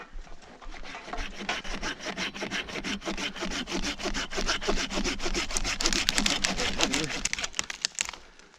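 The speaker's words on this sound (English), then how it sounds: "today we're going to be using crosscut saws instead of chainsaws" A crosscut hand saw rasps steadily through wood in rapid back-and-forth strokes, close and continuous for several seconds, with no talking.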